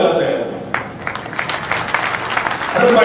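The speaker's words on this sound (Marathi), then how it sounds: "बघा पुरुष मंडळी टाळ्या वाजवायला तयार" A brief burst of men clapping at a public meeting, a short round of applause that swells and fades beneath a speaker talking over it.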